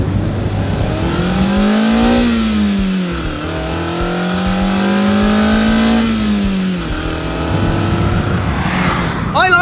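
A naturally aspirated 181-horsepower four-cylinder Mazda MX-5 engine, 2024 model revving to 7,500 RPM, climbs and falls through loud rising revs twice, close and strong, with a rasp as it winds up and drops back.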